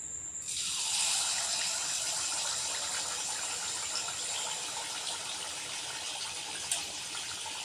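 Karthigai deepam appam fries in hot oil with a steady, dense sizzling hiss that starts abruptly and carries on evenly at moderate loudness, with a faint click near the end.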